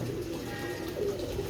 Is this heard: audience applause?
no